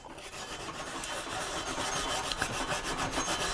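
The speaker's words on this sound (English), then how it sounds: "Take a soft scrub pad." A soft scrub pad rubs across the surface of an exhaust manifold from a 2008 Pontiac Grand Prix during gasket replacement, giving a faint, continuous close-up scrubbing hiss with quick repeated strokes.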